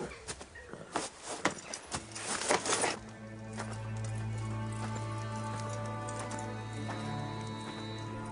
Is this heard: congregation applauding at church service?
no